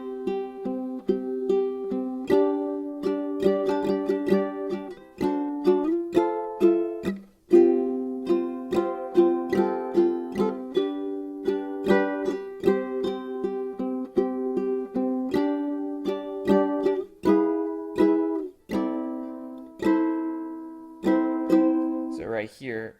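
Ukulele playing the chorus of the One Piece opening, a lively run of rapid plucked notes and strummed chords in a bright, continuous melody, close and steady throughout.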